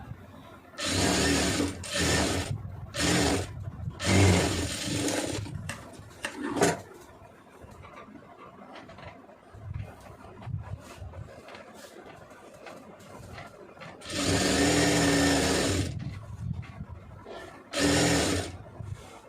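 A sewing machine stitches a neck piece onto a blouse in bursts of rapid mechanical clatter, several runs of a few seconds each separated by quieter handling of the fabric, close and fairly loud.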